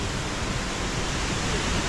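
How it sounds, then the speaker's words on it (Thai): A waterfall in a tropical rainforest greenhouse, with moss and koi below, gives off a steady, even rush of falling water, constant and moderately soft with no other sounds. "ส่วนน้ำตกที่อยู่ด้านล่าง ที่มีมอสและปลา ที่มีมอสและฝูงปลาคราฟแหวกว่ายในสายน้ำ"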